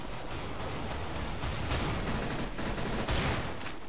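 Sustained rapid gunfire from a weapon in Counter-Strike: Global Offensive, a dense continuous burst of shots with a few louder cracks standing out, loud and close with no talking.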